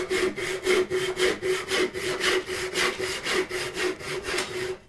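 A dull hand saw with a thick plate cutting through wood in a steady back-and-forth rhythm, about three strokes per second, close and clear with no talking.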